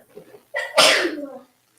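A single loud sneeze close up, with a short sharp intake just before it.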